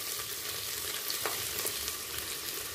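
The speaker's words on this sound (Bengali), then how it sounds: "এরপর দিয়ে দিচ্ছি 4টে মিডিয়াম সাইজের পেঁয়াজকে লম্বায় কুচিয়ে নিয়েছি।" Four medium onions, sliced lengthwise, sizzle in hot oil tempered with cumin for a mutton curry: a steady, close hiss of frying with faint stirring scrapes, no voices.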